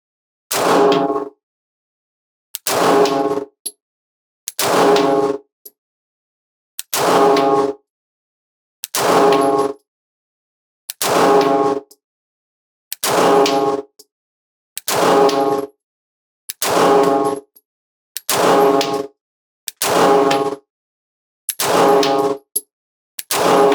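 A CZ P-09 C Nocturne pistol fires about a dozen sharp, loud single-action shots at a range, spaced evenly about two seconds apart, with silence between them.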